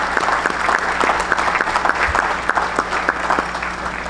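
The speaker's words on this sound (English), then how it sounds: "let's give these gentlemen a round of applause for being Hall of Famers" An audience claps steadily for baseball Hall of Fame inductees at an induction ceremony, a moderate, even patter of many hands throughout with no voices standing out.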